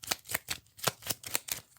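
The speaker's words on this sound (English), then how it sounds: "shuffle up the Romanian cards" A deck of playing cards being shuffled during a wargame session, with about eight quick riffling bursts in steady rhythm, close and fairly quiet, with no talk.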